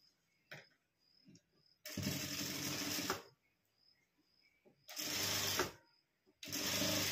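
A sewing machine runs straight stitches along a blouse seam in three loud bursts of steady whirring, separated by quiet pauses with faint handling clicks.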